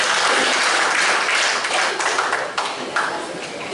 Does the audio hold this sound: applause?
yes